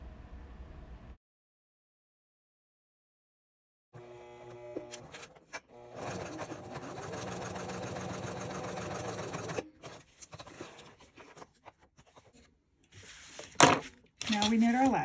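Sewing machine stitching card slots on a fabric wristlet, running in a steady whirring burst for several seconds after a silent pause, then stopping and starting in shorter runs among handling clatter.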